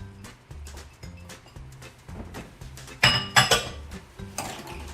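A whisk taps and scrapes rhythmically in a pan as green onion is stirred into a mustard cream sauce, with soft steady strokes and a few louder metallic clinks near the end.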